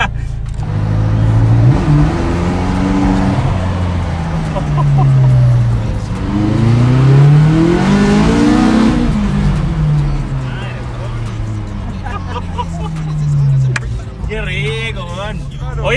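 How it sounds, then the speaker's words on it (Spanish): A McLaren sports car engine revs and accelerates loudly up close, pitch sweeping up and down through gear changes, with people talking over it in Spanish. "Yo creo que es la primera vez que manejo un McLaren"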